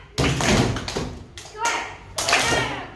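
Rhythmic hand clapping mixed with taps on a table, several bursts in a counting pattern, close and fairly loud, with voices chanting along between the beats.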